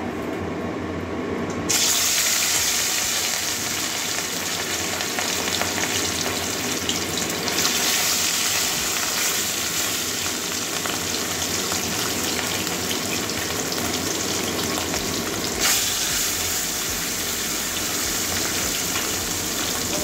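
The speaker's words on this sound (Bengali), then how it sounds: "তেল গরম হয়ে গেছে, এবারে মাছগুলো ভেজে নেবো।" Katla fish pieces fry in hot oil with a continuous close sizzle and crackle that swells at moments as pieces go in, with no voices.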